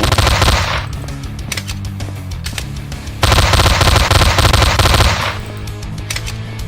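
Loud bursts of rapid machine gun fire in the video game Slendytubbies 3, in two long volleys separated by a short pause with fainter shots.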